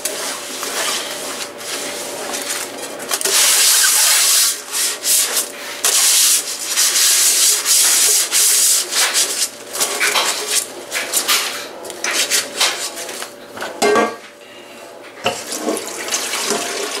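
A Scotch-Brite dish cloth scrubs a greasy pan in steady, loud back-and-forth rubbing strokes with brief pauses, close up, with faint running water and no talking.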